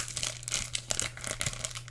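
Trading cards crinkle and bend in the hands, a quick run of soft crackling and scratching close up over a low steady hum, with no talking.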